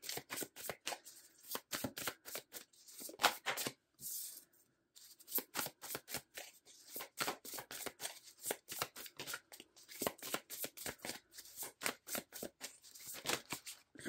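A bulky tarot deck is shuffled close up in quick, rapid bursts of riffling and slapping card noise, with one brief pause partway through.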